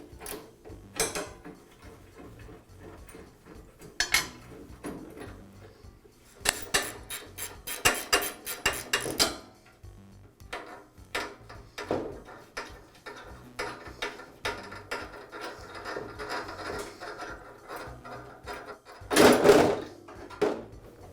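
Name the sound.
removing bolts and bracket from tile saw guide rod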